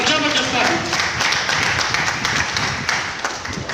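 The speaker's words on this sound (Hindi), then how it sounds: "एक बार जबरदस्त ताली मिस्टर पुष्पेंद्र भैया जी के लिए, एक बार जबरदस्त ताली" An audience claps and applauds continuously at a celebration event, a dense, lively patter of many hands, while a host speaks loudly over it.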